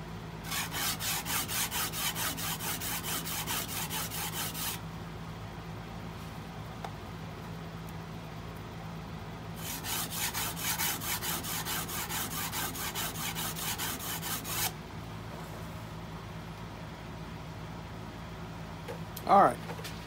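A woodturning skew chisel is sharpened with two long rhythmic rasping strokes of about five seconds each, separated by a pause, over a steady low motor hum, with faint talk nearby.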